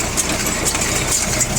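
The pickup of a Japanese Star Junior 900 round baler runs close by, a steady mechanical drone with light rhythmic rattling and ticking over its short span.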